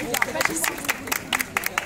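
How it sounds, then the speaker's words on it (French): Brisk clapping from a theme park show audience comes in quick, separate bursts under a performer's voice, moderately loud, with crowd murmur mixed in. "On applaudit très fort."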